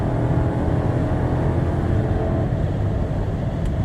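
A Dodge Durango R/T cruises on a highway while passing a truck, a steady loud low engine and road drone with tire roar filling the cabin, continuous and unbroken with no talk.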